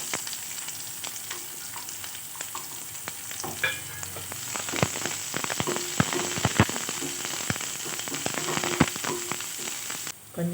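Sliced onion frying in hot oil in a pan with popped mustard seeds, a busy continuous sizzle with sharp crackles and spits throughout, close and alone.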